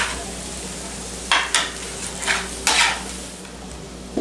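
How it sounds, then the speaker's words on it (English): Vegetables, including green pepper, sizzle in a hot pan with a constant hiss, broken by several scraping bursts as they are stirred, close and moderately loud. "You can hear the vegetables sizzling."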